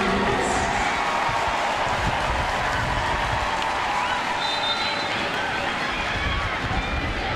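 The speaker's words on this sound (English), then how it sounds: "Madison Haley getting a round of applause as she is replaced by Sam Tran." Stadium crowd at a UCLA vs Stanford NCAA women's soccer match applauds as Madison Haley is substituted off, a broad, steady roar of clapping and crowd noise with a commentator talking over it.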